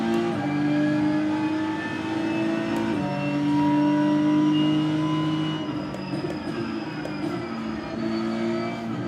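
Race car engine in the iRacing sim holding a loud, steady drone with shifting pitch, revving up and easing back with a brief shift-like step, heard close and alone.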